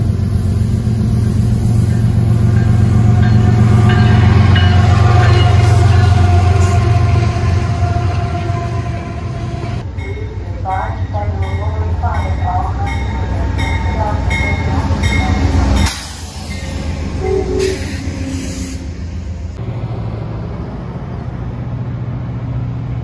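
A Metro Rail train pulls into Alexandria station with a loud, close rumble and rolling clatter that eases off, followed by brake squeals and a sharp hiss of air around the stop.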